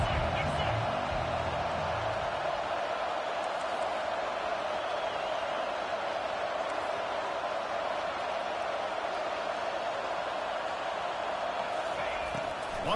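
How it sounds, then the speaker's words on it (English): An American football stadium crowd on a third-down defensive stand, a dense, steady roar that stays loud and unbroken throughout. "Decibels rising as the crowd gets behind this defense on third down."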